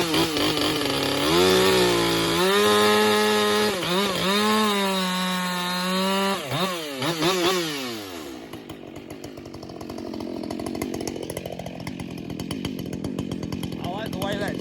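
A ported chainsaw makes a warm-up cut through hardwood walnut, its loud high-revving whine holding steady and then bogging and rising as the chain bites and saws through the log up close.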